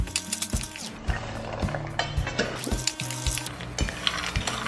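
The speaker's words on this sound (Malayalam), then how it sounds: "എന്നിട്ട് എല്ലാം കൂടെ നല്ലതായിട്ടൊന്ന് മിക്സ് ചെയ്യാം" Peanuts and spices being stirred in a bowl make scraping, clattering sounds in uneven bursts, with repeated knocks of the spoon against the bowl, close and moderately loud.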